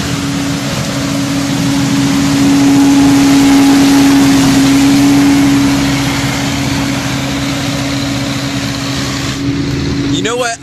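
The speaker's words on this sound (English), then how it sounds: "This is a neat machine here. It's called a sweeper or a windrower." A walnut sweeper, or windrower, runs in an orchard with a loud, steady engine drone and a sustained mechanical hum lasting several seconds, heard close up and fading slightly near the end.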